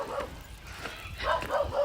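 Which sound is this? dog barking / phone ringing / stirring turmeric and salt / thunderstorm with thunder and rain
dog barking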